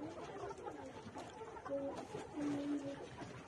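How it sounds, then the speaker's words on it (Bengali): Laying hens, point-of-lay birds ready for egg production, cluck and murmur in a flock, with a few short tonal calls rising over a steady, close, low-level chatter. "এই ভিডিওটির মুরগিগুলো দেখা যাচ্ছে যে ডিমের জন্য একবারে পরিপূর্ণ রেডি মুরগি"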